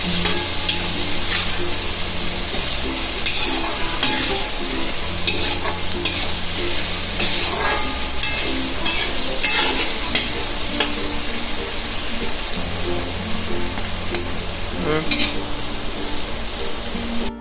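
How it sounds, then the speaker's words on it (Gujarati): Potatoes and onions fry in a pan, a steady close hiss of sizzling oil with the scrape of a spoon stirring at intervals, continuous and fairly loud with no talking throughout. "આપણે બટેટા ડુંગળી એકદમ સરસ તળી ગયા છે"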